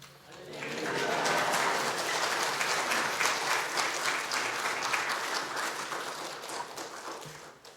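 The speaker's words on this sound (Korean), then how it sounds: "우리 목사님 나오실 때 할렐루야로 박수하며 환영하도록 하겠습니다." A church congregation at a Sunday worship service applauds to welcome the pastor, with steady dense clapping that swells in within a second and carries on evenly for several seconds before easing slightly.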